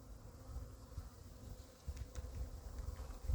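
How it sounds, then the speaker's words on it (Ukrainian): Honey bees flying around sunlit hives at an apiary in early spring with snow about, a soft, steady buzzing drone that stays faint and continuous throughout, with no voices. "Там, де сонечко пригріло, бджілки трішки літають."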